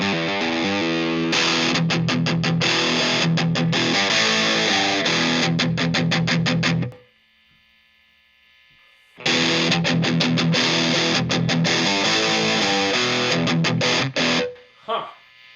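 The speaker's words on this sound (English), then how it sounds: "Let's turn the distortion all the way down. That actually sounds a little bit more like an overdrive because it's got less distortion on it." Electric guitar played through a Boss DS-1 distortion pedal with the distortion knob turned all the way down, giving a milder, overdrive-like crunch; loud strummed chords ring out, stop for about two seconds, then resume.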